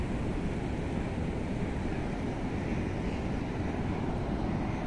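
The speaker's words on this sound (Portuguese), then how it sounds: "a onda tá perto demais" Ocean surf breaks close on a beach, a steady broadband wash and roar with faint wind noise, continuous and without any voices.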